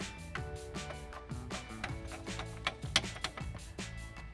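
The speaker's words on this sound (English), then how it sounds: "this time we really want to tighten this down as much as we can" A drain nut is threaded and tightened onto the body of a bathroom sink drain while a Delta pulldown widespread faucet is being installed, giving close, rhythmic ratcheting clicks and plastic creaks.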